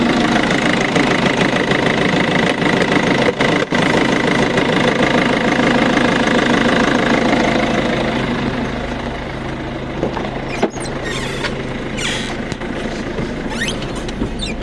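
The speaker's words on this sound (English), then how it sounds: "Airbox is so rattly." A Peugeot engine idles steadily and close up, with a buzzy mechanical rattle from the airbox running through it and a few sharp clicks.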